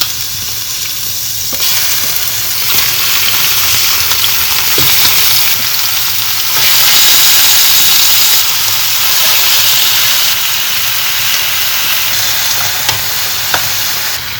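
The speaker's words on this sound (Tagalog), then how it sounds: "Pan-fry ulit." Steady, loud sizzling of turkey pan-frying in hot oil, a continuous crackling hiss with occasional sharp pops, no voices.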